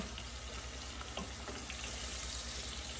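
A quiet, continuous sizzle of pointed gourd frying in a pan, with faint occasional stirring sounds and no talking.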